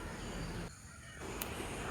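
A crow caws from nearby among other calling birds around a home yard, set against steady outdoor noise with a brief lull partway through.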